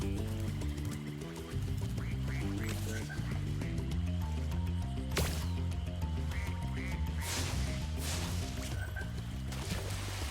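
Cartoonish duck quacks from a childhood-classic video game, set over continuous game music with several short quacks scattered through it.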